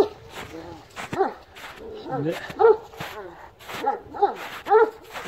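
Several Kangal dogs bark repeatedly at close range with deep, uneven woofs and some higher yips, heard outdoors while someone talks briefly over them.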